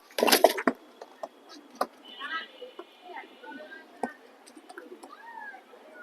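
Pigeons cooing among a small flock of high-voiced birds, soft rolling coos and chirps at close range after a loud burst of flapping or rustling, with someone talking at points.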